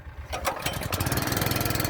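A lawn mower engine cranks over, catches and settles into a steady, close, loud running rhythm.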